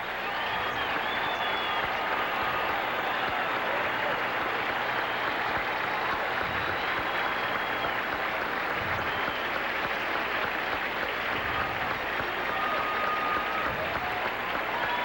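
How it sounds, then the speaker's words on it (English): Sustained ovation from a baseball crowd at a Cincinnati Reds at New York Mets game, steady dense applause and cheering filling the whole stretch at an even, loud level with no break. "Great crowd here tonight and receiving a tremendous ovation"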